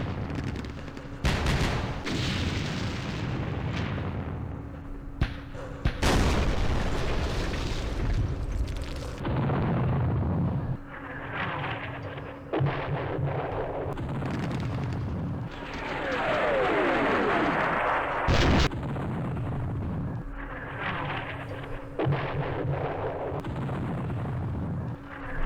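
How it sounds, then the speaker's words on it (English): Artillery fire in the Campaign Series Middle East war game: repeated heavy booms and blasts at irregular intervals, some close and sharp, others rumbling, layered over a continuous low battle din. "Artillery."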